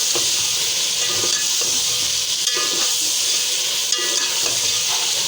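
Daal gosht roasting in a pan with ginger garlic paste and salt: steady frying sizzle and hiss throughout, with soft stirring scrapes now and then, close and continuous.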